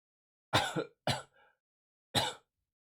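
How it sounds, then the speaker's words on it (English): A person in a quiet room gives a few close, harsh coughs and throat clears, three distinct bursts with a brief rough rasp between them, alone against silence. "sorry for all the coughing"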